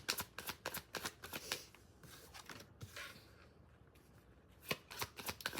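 Tarot cards being shuffled by hand in repeated quick riffling bursts with short pauses between, close and fairly quiet, no talking.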